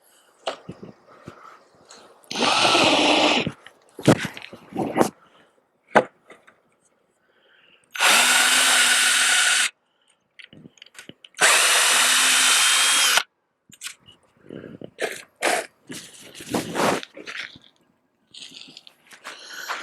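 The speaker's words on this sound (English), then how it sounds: "I've drilled a pilot hole on the top of this corner here." A power drill boring a pilot hole into the corner of a wooden garden box, with several short loud bursts and two longer steady runs of whirring, separated by quiet gaps and small handling clatter.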